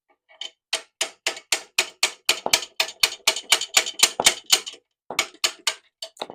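Sharp metal-on-metal hammer blows with a heavy hammer, striking from below to free a clutch pack on a Permobil M3 power wheelchair; about twenty close, evenly spaced hits in a fast rhythm, a brief pause, then several more.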